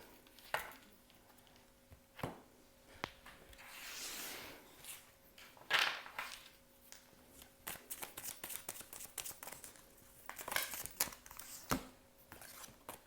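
A small tarot advice card is drawn and handled during a reading, with close paper shuffles, slides and sharp card snaps and taps arriving in irregular bursts, quiet between them and with no talking.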